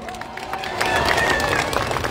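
Audience applause at a political rally in Damak, Jhapa: steady crowd clapping building in strength after the first second, with a murmur of voices and light cheering underneath.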